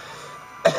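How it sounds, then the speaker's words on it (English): One sharp close cough bursts out at the end after a quiet stretch of room tone. "damn cough."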